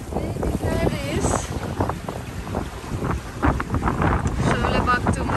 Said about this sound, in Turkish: Şöyle baktığımız zaman hava bu arada 23 knot, 22 knot falan esiyor.